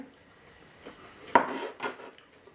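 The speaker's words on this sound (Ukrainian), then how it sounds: "Нарізаємо огірки" A knife slicing cucumbers for sushi on a board, a few soft, sparse cutting knocks with one sharper tap, quiet and alone.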